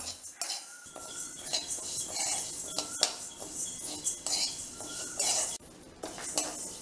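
Moong dal dry-roasting in a pan, stirred with a metal spoon that scrapes and clinks against the pan in quick, irregular strokes, close and fairly quiet with no talk.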